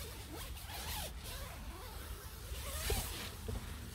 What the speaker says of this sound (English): the zips are quite smooth